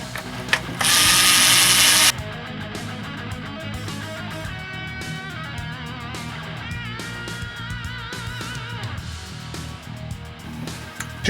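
A ratchet clicks rapidly and close while unbolting the signal generator cover on a Suzuki RF600 engine, opening with a brief loud burst and then a long run of steady ratcheting strokes, with no talk.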